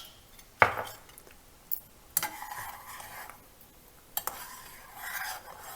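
A spoon stirs garlic chutney with black pepper, long pepper, dry ginger powder and palm sugar in a pot, giving a few sharp metallic clinks against the rim between quieter scraping, close and alone.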